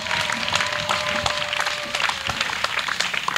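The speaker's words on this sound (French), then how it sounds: "Clap for Jesus Christ." A church crowd at a salvation and healing weekend in Port Bouet claps steadily and densely for Jesus Christ, with a thin sustained tone running underneath the continuous patter of hands.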